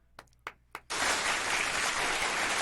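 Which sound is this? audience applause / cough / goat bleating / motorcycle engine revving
audience applause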